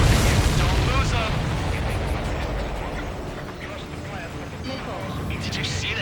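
A missile strikes a supply ship in a flight combat video game, a loud booming blast that decays into rumbling debris and crackles, with voices talking over it.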